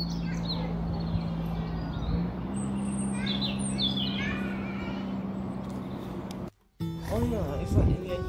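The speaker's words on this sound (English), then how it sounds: "There's a lot of pigeons and things who have made this their home." Birds call and chirp at intervals around a castle where pigeons roost, fairly faint against steady outdoor background noise, with a person talking over part of it.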